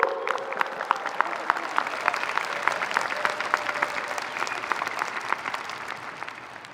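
A graduation crowd at an outdoor stadium commencement applauds, its clapping fairly distant and moderately quiet, steady throughout with sharp individual claps poking out of the wash.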